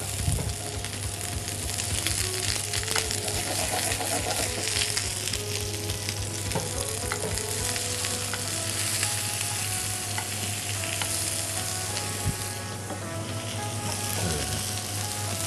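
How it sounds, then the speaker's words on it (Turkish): Beef tenderloin fries in a pan with very little oil, giving a loud, steady sizzle throughout with occasional clinks and stirring noises. "Kızartma işlemi tamamladıktan sonra da fırınlayacağım."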